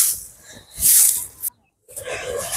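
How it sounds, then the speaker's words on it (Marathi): Water splashes and hisses over a bull in a farmyard, a loud rushing burst near the start, a brief silence, then steady spattering resumes. "थांब, तुला पाणी टाकते अजून"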